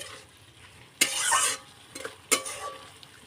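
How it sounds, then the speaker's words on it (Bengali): Taro stems are stirred into a spice paste in a pan, two sharp, close scraping strokes standing out over a soft, constant sizzle, with no talk. "এবারে ডাঁটাগুলো দিয়ে একটু ভালো করে নাড়িয়ে চাড়িয়ে কষে নিতে হবে"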